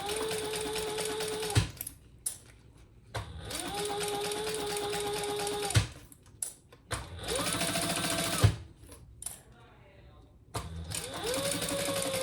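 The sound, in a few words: sewing machine top stitching a fanny pack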